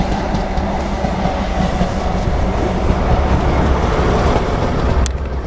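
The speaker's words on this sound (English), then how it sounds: "the train's come hell of a close to where I am" A train rumbles past very close, with a loud, continuous roar and a clattering of wheels on rails for several seconds. The noise ends in a sharp click, and there is no talking.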